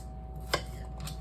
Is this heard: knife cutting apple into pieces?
yes